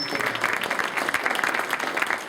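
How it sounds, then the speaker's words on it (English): An audience at an anniversary event at Lord's in the UK gives a brief, dense burst of applause, loud and continuous clapping from many hands. "a big round of applause again for Rajan"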